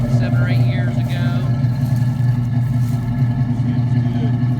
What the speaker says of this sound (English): I got a nice dual exhaust put on it about 7 or 8 years ago.